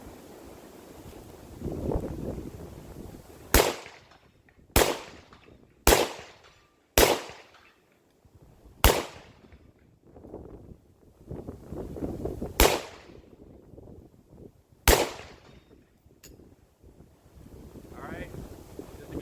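Single shots from a PSA AK101 rifle fired outdoors, seven sharp cracks at irregular intervals amid wind noise and a steady background rumble.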